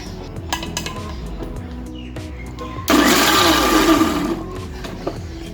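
A mixer jar blending homemade mayonnaise, preceded by clinks and taps of the jar, then a loud, steady whirring burst of about a second that tapers off, close by.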